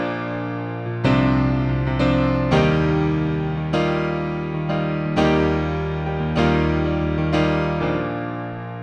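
A piano plays the verse of a song, sustained chords struck in a steady pattern mimicking an acoustic guitar part, with low bass notes shifting every second or so, clear and alone.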